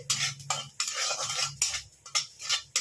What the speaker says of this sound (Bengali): আমি তেলের মধ্যে একটু কালো জিরে দিয়ে দিলাম।